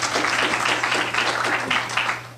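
A lecture audience applauds to welcome a speaker, a steady, fairly loud wash of clapping hands filling the room throughout.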